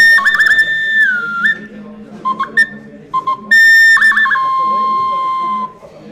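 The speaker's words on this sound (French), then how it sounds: "Ce petit sifflet a été trouvé en Roumanie, c'en est la copie en tout cas d'un petit sifflet trouvé sur le site d'habitat de Arzova en Roumanie." A small clay whistle, a copy of a Neolithic find from a settlement site in Romania, blows several clear, fairly loud tones that slide and hold. The notes come in short separate bursts with pauses between them, and faint background noise runs underneath.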